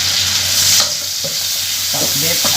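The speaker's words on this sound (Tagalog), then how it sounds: "lagay na natin ang ating kamatis" Chopped tomatoes hit a hot pan of Filipino pakbet and are stirred, giving a close, steady sizzle with scraping and clacking utensil strokes against the pan.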